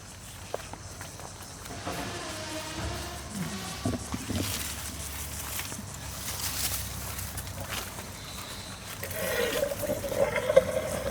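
Water runs into a repaired, previously cracked van water tank, a steady rushing fill with some clunks and footstep-like knocks, getting louder and fuller near the end.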